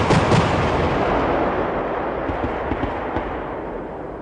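A CV9040 fires programmed 3P airburst rounds with controlled dispersion, giving a loud booming blast at the start that decays into a long rumbling roll with faint distant bursts.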